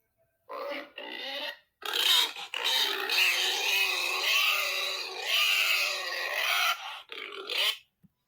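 Pig grunts and squeals, a run of loud, close oinking bursts with brief pauses between them, heard alone without talk.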